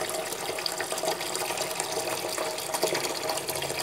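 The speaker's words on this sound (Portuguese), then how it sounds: "Agora você vai deixar encher a pia, né? Aqui essa pia é uma pia grande," Tap water pouring steadily into a large kitchen sink, a continuous close splashing rush with no voices over it.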